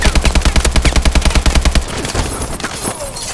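Loud rapid automatic gunfire in a video game, a fast even burst of shots lasting nearly two seconds, then scattered softer shots and game noise trailing off.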